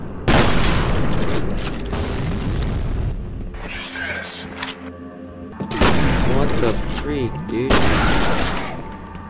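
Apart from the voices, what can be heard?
gunshots in video game F.E.A.R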